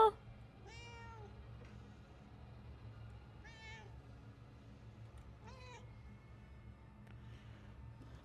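A cat in the video game Murdered: Soul Suspect meows three times at moderate distance, with clear rising-falling cries spaced a couple of seconds apart over a steady low ambient hum.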